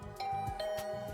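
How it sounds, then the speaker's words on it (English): A doorbell chimes in the video game The Hundred Line: Last Defense Academy, a short two-note ding-dong repeated over a soft electronic background hum. "Not even 10 minutes had passed before I heard my doorbell ring."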